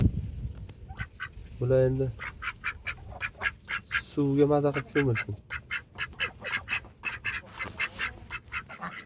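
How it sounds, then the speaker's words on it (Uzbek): Ducklings peep and quack in quick, repeated high calls, with a couple of longer, louder calls standing out, while a person talks nearby. "O'rdakchalar."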